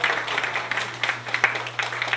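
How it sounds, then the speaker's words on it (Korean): An audience applauding at a church gathering, steady clapping from many hands in a room for a couple of seconds, with a low hum underneath. "박수 부탁드립니다."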